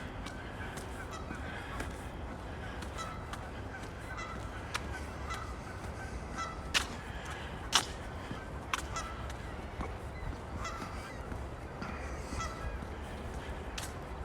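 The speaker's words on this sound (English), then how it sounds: "There's lots of birds to hear. Mostly geese, but not just geese." Geese honk repeatedly around a misty lake in Regina on an April morning, with several sharp, louder calls standing out over a steady outdoor wash and other birds mixed in at a distance.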